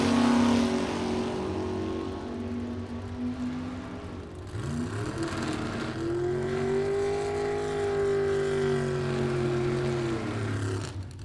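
A 1965 Chevrolet Malibu roars through a drag racing run. A loud engine howl climbs and shifts pitch over about eleven seconds, heard from trackside at close range with a second car joining in.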